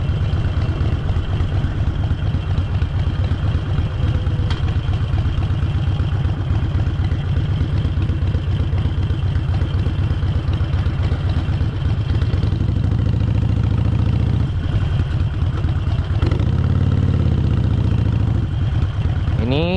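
Harley-Davidson motorcycle rumbling steadily on a ride near an old lava field in Jogja, a continuous low engine drone with clattering texture and wind, loud throughout and shifting slightly in pitch toward the end.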